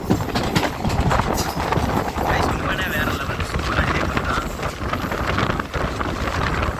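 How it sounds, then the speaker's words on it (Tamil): A train moves through Pamban railway station with a loud rumbling roar and gusts of wind across the microphone, while someone talks over it. "இறங்கின ட்ரெயின் வந்து போகுது"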